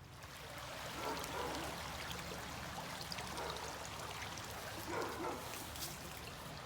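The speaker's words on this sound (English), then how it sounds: "Here's the view of Fishing Creek that the bridge spans" Fishing Creek flows beneath a covered bridge in Frederick County, Maryland, a steady broadband rush of moving water heard close and continuous, with no voices.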